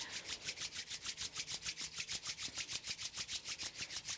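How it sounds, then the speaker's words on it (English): Palms rubbing briskly together during a calm yoga session, a soft, quiet, steady back-and-forth swish repeating about five times a second with no talk over it. "rub the palms together, create some heat"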